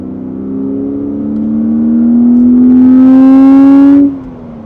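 A BMW Z4 (E86) roadster accelerates hard from close by, its engine note rising steadily in pitch and loudness for about four seconds before cutting off sharply.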